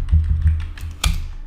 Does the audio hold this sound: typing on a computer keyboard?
yes